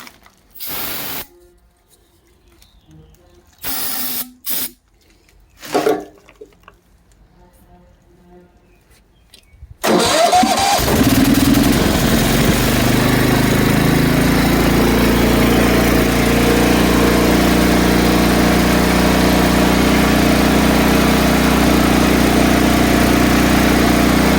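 A Sears Suburban lawn tractor engine fitted with a cheap replacement carburetor catches after a few quiet clicks and sputters, then settles into a loud, steady idle that drones on without letup.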